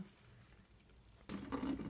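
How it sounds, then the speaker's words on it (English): Tap water starts running over fenugreek sprouts being rinsed in a sink, a faint hush that turns into a louder steady splashing stream partway through. "It is very, very important to rinse as long to rinse until the water runs completely clear."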